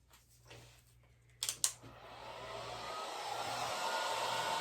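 A heat tool used on a resin cake stand and coasters switches on after a few faint clicks and handling sounds, then blows hot air in a steady, rising whoosh that continues to the end.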